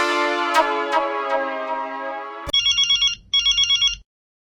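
An electronic telephone ringtone with a few bright tonal notes, then a short burst of rapid beeping tones that cut out abruptly into silence, heard with no talk.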